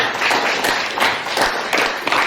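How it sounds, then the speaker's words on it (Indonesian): Classroom of students clapping for a classmate, a loud close patter of hands in uneven bursts, brief and without speech. "tepuk tangan untuk Deva, jawabannya bagus"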